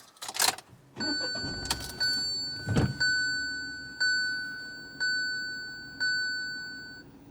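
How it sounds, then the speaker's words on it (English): A car being started gives a brief door thump and engine crank, followed by a series of evenly spaced electronic chimes, about one per second, ringing clearly in a quiet cabin. "Then start the car."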